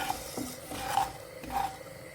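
Whole peppercorns dry-roasting in a pan are stirred, giving soft scraping, rasping rubs in three or four short strokes, quiet and close.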